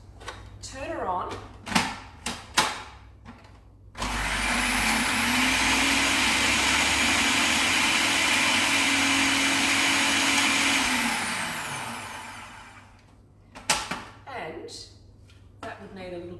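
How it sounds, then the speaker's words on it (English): A small, not very powerful food processor chops stripped kale leaves into kale rice, a steady loud whirring drone running about eight seconds before winding down, with speech before and after. "pop it in your food processor, and turn her on"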